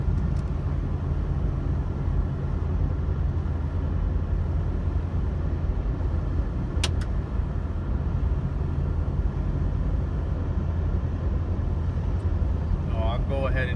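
Jeep Cherokee Sport XJ with 34k miles merging onto a highway, a steady low rumble of engine and road noise filling the cabin, with someone talking over it.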